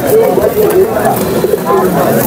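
Soft pigeon coos blend into a busy crowd at the Nazirpur bazaar pigeon market, with voices chattering and bargaining all around.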